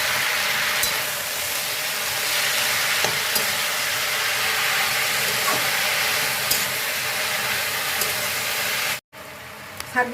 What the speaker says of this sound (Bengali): শাকগুলো দিয়ে একটু নাড়িয়ে নিলাম।